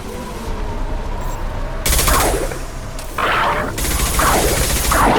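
An Impact shot power blasting in Mass Effect 2, with bursts of loud gunfire and crashing impacts in clustered volleys over a steady background of game ambience.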